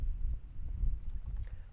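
Low rumbling wind buffeting at highway speed around 130 km/h on a 2021 KTM 1290 Super Duke GT motorcycle, a steady, gusty roar dominated by deep turbulence with no speech.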